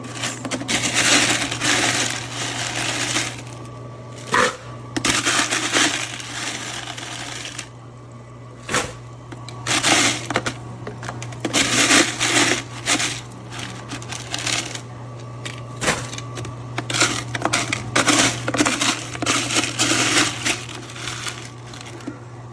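EUHOMY countertop nugget ice maker churning out ice, a close, continuous grinding crunch with rattling clatter and a low motor hum underneath, surging and easing in irregular bursts.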